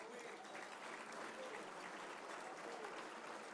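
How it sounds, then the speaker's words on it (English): A luncheon crowd at the Seaport Hotel in Boston applauds for Joe Nolan, a faint, steady wash of many hands clapping with a murmur of voices. "A nice round of applause for Joe, huh?"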